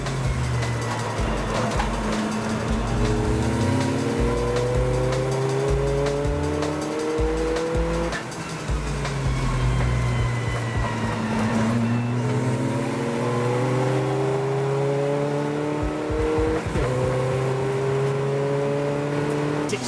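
An Audi TT and a diesel Golf race cars charge around the Anglesey circuit, engines revving up and down through repeated gear changes, with tyres squealing and several cars passing close and loud.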